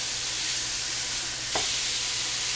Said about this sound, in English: I'm going to start breaking this up, and then what I want to do is brown it up